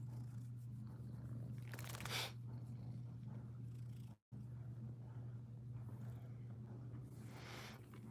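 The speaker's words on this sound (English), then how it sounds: "Yeah, he is a pretty cat." Xavier, a 14-year-old cat, purrs close to the microphone in a low, steady drone, with occasional soft rustles and a brief dropout midway.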